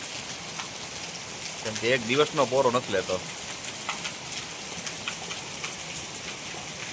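Heavy rain in Porbandar makes a constant, even hiss of rainfall throughout, while someone speaks briefly over it partway through.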